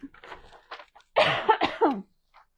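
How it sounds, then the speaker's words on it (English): Several harsh coughs in quick succession, close by, with short pauses between them, followed by quiet. "I've still got that cough, y'all."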